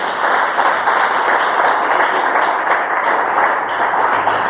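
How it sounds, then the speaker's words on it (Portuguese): A church congregation claps in sustained, dense applause, loud and even throughout with no voices over it. "dê uma salva de palmas a Ele."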